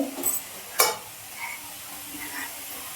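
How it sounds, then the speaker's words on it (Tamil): Onions sizzle gently in a frying pan, with a sharp clank of the spoon against the pan and a few soft stirring scrapes. "வெங்காயம் நம்ம மிக்ஸ் பண்ணிடலாம்"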